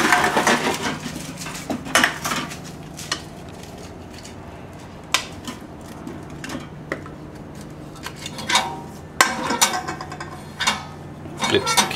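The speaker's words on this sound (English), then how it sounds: "Flips the can down. Move it around." A can crusher clanks and rattles as it flips an aluminium can down and shifts it, giving scattered sharp metallic knocks and taps over a low steady compressor hum.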